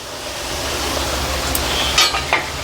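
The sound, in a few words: ribbon pakodi deep frying in oil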